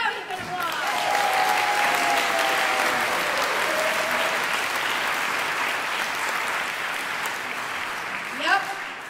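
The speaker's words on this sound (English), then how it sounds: "Now you can applaud!" Warm, sustained applause from a large audience after a Berkeley community chorus concert, steady dense clapping that tapers gently near the end, with a brief whoop or shout toward the close.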